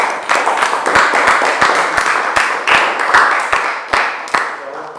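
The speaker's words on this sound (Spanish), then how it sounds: "Un aplauso para Teresa" A small audience applauds a performer at a show, giving a few seconds of loud, close clapping with sharp uneven claps that fade slightly at the end, free of any talk.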